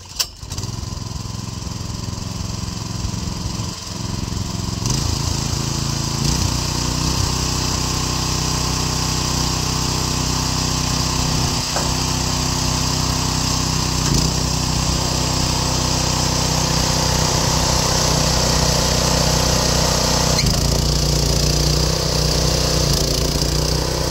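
A Troy-Bilt Horse tiller engine running steadily while tilling a garden with old tines, a loud continuous drone with a brief startup at the beginning and small changes in pitch throughout.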